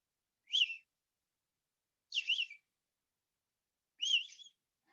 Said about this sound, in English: I'm waiting for the blue-headed vireo to come back.